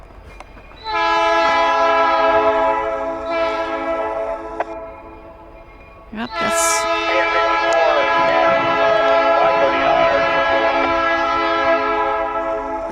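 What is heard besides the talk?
train passing with horn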